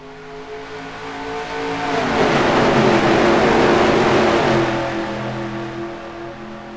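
At the green-flag start of a simulated Columbia truck race in NASCAR Racing 2003, a pack of racing trucks roars together, the engines swelling loudly to a sustained peak before easing slightly.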